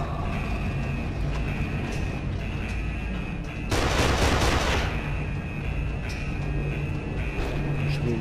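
A loud burst of rapid gunfire in the game Kane and Lynch 2 rattles for about a second amid a dense, busy background of game sounds and effects.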